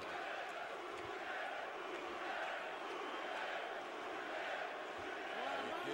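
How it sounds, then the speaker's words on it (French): Arena crowd at a 12-round UBF super middleweight world title boxing bout between Bute and Berrio, a dense, continuous roar of many voices merging into a distant chant-like wash. "Et déjà la foule qui commence à scander le nom de Boutet"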